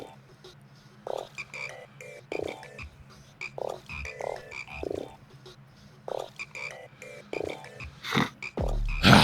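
Frogs croak in repeated low, throaty bursts within Indika, falling into an uneven rhythm over a musical backing, with a louder sound rising at the very end.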